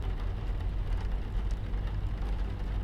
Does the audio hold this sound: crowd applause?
no